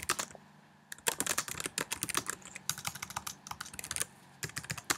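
Fingers tap quickly on a computer keyboard, a close, dry patter of keystrokes in uneven bursts with short pauses, heard alone without talking.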